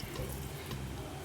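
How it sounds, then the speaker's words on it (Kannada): Water pours in a quiet, steady stream into a pot of rice for homemade Karnataka tomato bath, a soft continuous splashing with no one talking. "ಹಾಗಾಗಿ 4 ಗ್ಲಾಸ್ ನೀರು ಹಾಕ್ತಾಯಿದ್ದೀನಿ."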